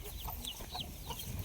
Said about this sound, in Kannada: ಅದು ಕೋಳಿ